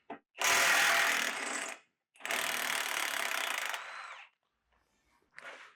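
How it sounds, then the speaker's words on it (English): Ratchet driving a 14 mm socket to remove the crash bar from a 20-year-old fourth-generation Toyota 4Runner; two long, loud bursts of rapid clicking, then a short one trailing off. "take the crash bar off. 14 millimeter socket."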